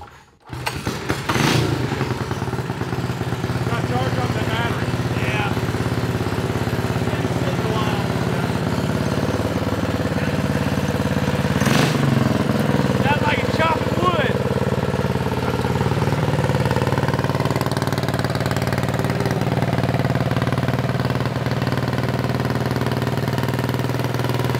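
A Tillotson 212 electric-start small engine on a budget build fires up and runs close and loud at a steady idle for the full stretch, with a brief revving rise partway through and a few faint voices beneath it.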